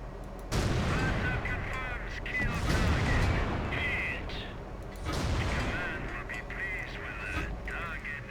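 Booming artillery shots from a World of Tanks battle land as a few heavy, spaced blasts amid continuous game noise, with no talking.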